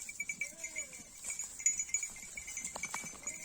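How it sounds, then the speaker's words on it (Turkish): Livestock bleat softly a couple of times amid faint rustling and shuffling, with a quiet outdoor background. "Şu Süsen bizim ilk eski hayattan bezdiren koyun."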